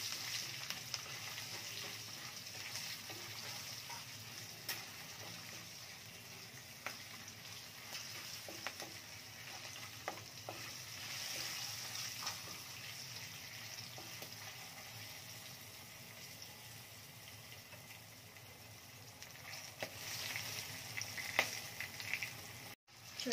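Tempering for lemon rice frying in a pan, a steady close hiss and crackle of oil with scattered small pops, continuing without talk for over twenty seconds.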